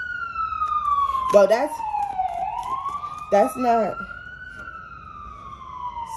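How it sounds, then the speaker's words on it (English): Ambulance siren wailing outside, a steady rising-and-falling tone heard at moderate distance throughout, with a person talking over it at times. "Y'all hear them sirens?"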